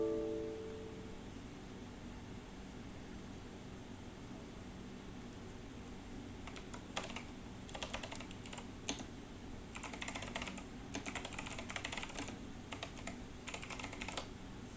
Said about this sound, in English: I know you can't see what I'm typing at the moment